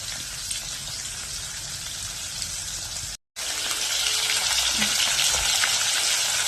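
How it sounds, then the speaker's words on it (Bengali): Fish sizzles steadily in a pan (kadai) on a home stove, a dense crackling hiss that runs unbroken apart from a brief dropout midway, close and fairly loud with no voices. "মাছ ভাজা হতে হতে"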